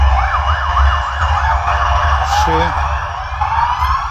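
Police sirens wail loudly and close by on a street, a rising and falling tone repeating over a low engine rumble with a brief higher whoop partway through.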